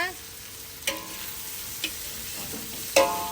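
Pork and garlic stir-frying in a pan, a soft continuous sizzle broken by three sharp spatula taps against the pan.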